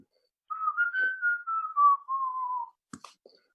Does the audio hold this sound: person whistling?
yes